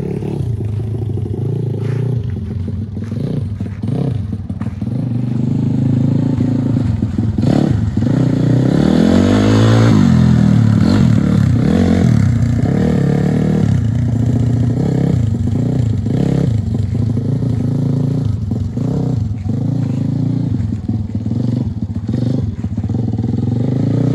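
A Honda ATC 70 three-wheeler revs hard in first gear: a loud, buzzy small-engine whine that climbs and falls repeatedly and peaks near the middle, with some clatter and scraping, close by and without talk.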